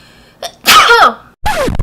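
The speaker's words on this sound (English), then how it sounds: "Oh my god, I need to sneeze." A sneeze rings out close and loud: a short breathy intake followed by a sharp, explosive burst, then a second strong sneeze after a brief pause, with no talking.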